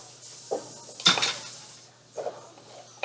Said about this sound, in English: You should probably just finish mixing it